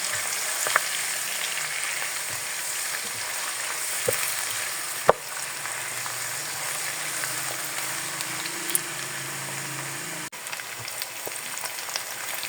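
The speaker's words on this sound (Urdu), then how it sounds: "پیاز اور لہسن ادرک کا پیسٹ ہمارا اچھی طرح فرائی ہو گیا۔" Onion with garlic-ginger paste frying in a pan for a mongre aloo dish, a steady close sizzle with occasional stirring clicks and scrapes throughout, no voices.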